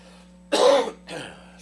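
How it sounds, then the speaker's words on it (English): A single sharp cough from a preacher at a pulpit before a Bible reading, followed by a softer throat-clearing sound, with steady low hum underneath. "Sorry about that cough."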